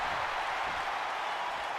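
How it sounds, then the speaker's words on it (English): A WWE 2K25 wrestling arena crowd roars in a steady, broad wash of cheering and noise, sustained loudly throughout without a break. "Crowd reacting loudly"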